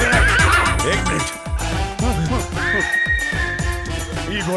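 A horse neighs loudly in a film scene, with repeated whinnies over clip-clop hooves and a dense music and effects track, all close and continuous.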